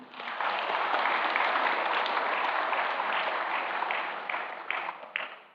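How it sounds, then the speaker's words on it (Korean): Congregation applauding two choirs at a church memorial service in Daegu, a steady, full wash of clapping that holds for several seconds before trailing off into a few last claps. "힘찬 박수 부탁드립니다."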